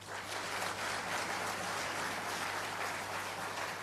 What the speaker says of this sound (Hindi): और आपकी तालियों की गड़गड़ाहट में ये चक दे इंडिया वाला भाव दिखाई देना चाहिए।